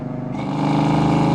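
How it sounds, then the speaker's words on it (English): A 1991 Ford Mustang LX 5.0 V8 idles and builds into a deep, throaty rumble through a Flowmaster catback dual exhaust with aftermarket headers, loud and close, with a steady pulsing beat. "This one's not terribly loud, but does have a good exhaust note to it."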